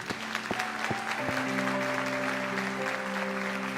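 A church congregation claps in praise during a sermon, a steady crowd applause with sustained organ or keyboard tones rising underneath from about a second in.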